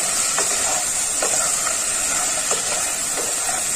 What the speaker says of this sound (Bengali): এবার নাড়াচাড়া করতে হবে।